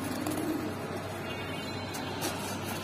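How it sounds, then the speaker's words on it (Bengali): Pigeons in a loft, with a few soft low coos early on over a steady faint background hum, the calling fading to near quiet afterward. "রিং চোখের কবুতর"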